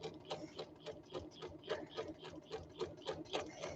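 A sewing machine stitches a baby bloomer fabric ruffle in a steady rapid mechanical chatter of regular needle strokes, faint and continuous with no talking.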